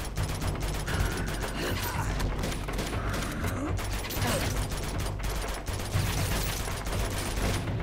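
Rapid automatic gunfire in the action game Uncharted 2: Among Thieves, sustained rattling bursts over a low rumbling game background, dense and steady throughout.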